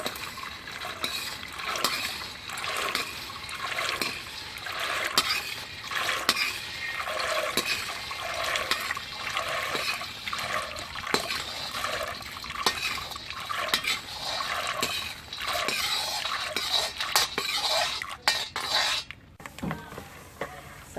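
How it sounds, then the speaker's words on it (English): Roasted soybeans poured into a bucket of cold water, a steady splashing, gurgling pour that runs for a long stretch with clinking, rattling bits, close and fairly loud. "next we're gonna pour this into a bucket of water"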